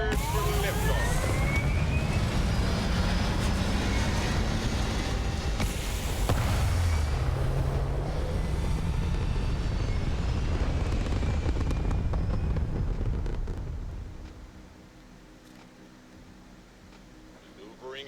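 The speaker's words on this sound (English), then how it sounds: "We're cleared for liftoff." A spaceship in Starfield lifts off with a loud, sustained roaring rumble that holds steady for about thirteen seconds, then drops away to a quiet hum, with speech laid over it.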